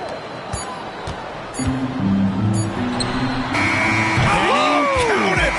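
A buzzer marks the end of a quarter in a basketball game, a sustained tone over crowd noise and bouncing balls, with the crowd swelling afterward amid commentator talk.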